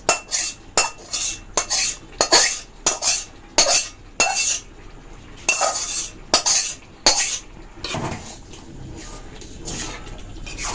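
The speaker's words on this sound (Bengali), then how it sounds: "ভালোভাবে মিশিয়ে নেব মশলাটা" A utensil stirs spice paste into cooked rice and lentil khichuri made with shyama rice and vegetables, producing loud, rhythmic scraping strokes against the pot, about a dozen in quick succession before fading into softer mixing; no talking.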